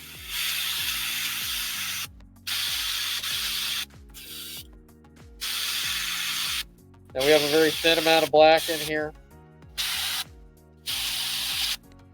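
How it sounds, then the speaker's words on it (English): Short hissing bursts of spray paint aimed upward onto a tabletop terrain model, several evenly spaced sprays separated by pauses, over a steady background drone, with someone talking during one burst. "I'm spraying upwards to the model"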